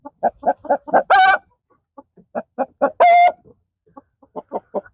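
Close, loud chicken clucks come in quick runs, broken by two longer raspy rooster-like calls, with no talking.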